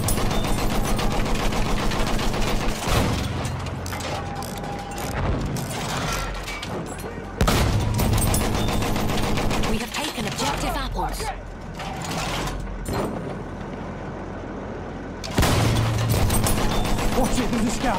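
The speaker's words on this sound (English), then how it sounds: "Enemy machine gun over there!" Enemy machine gun fire in the Battlefield 1 Conquest battle on Amiens, sustained rattling bursts amid loud, dense battlefield noise and explosions, with voices calling out over it.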